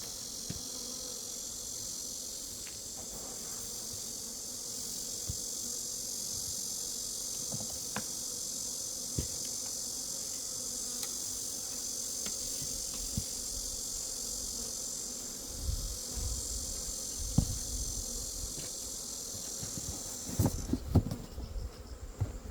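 Western honeybees swarm around an opened hive, a steady high insect hum running throughout with scattered nearby knocks and handling noises growing toward the end.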